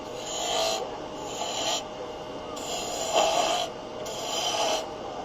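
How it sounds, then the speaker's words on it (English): A spindle gouge cuts maple spindle stock on a wood lathe, giving a steady rasping hiss in repeated passes of about a second each, with brief gaps between strokes. "I'm going to switch to a spindle gouge."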